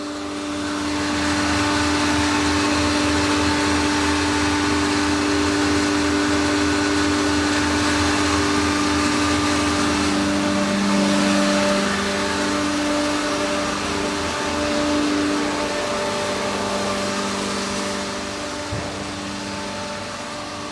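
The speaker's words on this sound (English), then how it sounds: "These are the vacuum pumps" Vacuum pumps on a transformer drying filter machine in a repair bay drone steadily, a dense, even mechanical hum with a constant tonal whine that holds for the whole stretch.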